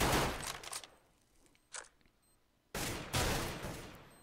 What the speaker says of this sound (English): they do take down spyleadeR, and he will claim the Mac 10, but can he go big with it here?